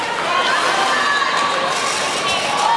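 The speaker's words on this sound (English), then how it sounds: "Big cheering group there for the Perth Roller Girls" A dense, steady roar of crowd noise fills a roller derby game between the Perth Roller Girls and Ballarat, loud and continuous, with cheering and chatter blending together throughout.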